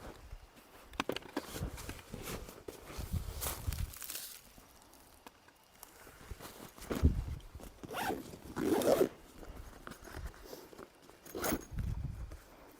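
Zippers on a Hazard 4 Second Front tactical backpack being worked open and shut in repeated rasping pulls, with rustling of fabric and handling noise between strokes, close and fairly loud.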